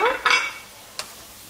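Chicken with grated cheese and grated ginger is stirred in a pan, with a couple of brief scraping, clattering strokes followed by a single light clink, close and fairly quiet.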